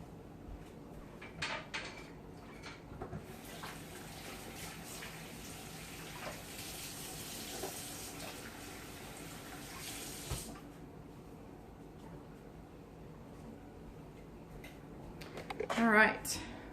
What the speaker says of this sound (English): y'all got to hear me wash my hands